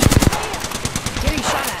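Rapid bursts of automatic gunfire crackle through a battle royale video game firefight, loud and close at first, then continuing as a steady rattle of shots under game sounds.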